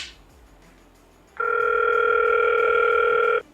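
Ringback call tone from a Hikvision cloud intercom outdoor panel after dialing an apartment number: a single steady electronic tone lasting about two seconds, clear and fairly loud, following a moment of quiet room background.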